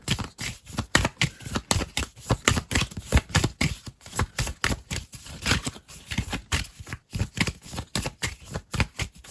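Tarot or oracle cards being shuffled: a rapid run of crisp riffling snaps and flutters, close and continuous for several seconds with brief pauses.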